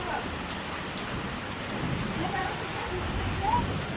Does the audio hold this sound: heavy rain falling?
yes